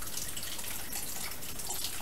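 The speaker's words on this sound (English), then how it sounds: "can you hear it dripping?" Water dripping and trickling steadily out of an outlet, a dense continuous patter of droplets with no pauses, close and moderately loud, and no one speaking.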